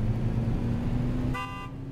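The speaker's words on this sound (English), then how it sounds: "Why is honking the same button as healing?" Car horn in a video game, a short bright honk near the end over a steady low engine drone.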